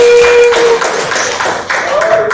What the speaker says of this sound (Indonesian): boleh tepuk tangan Pak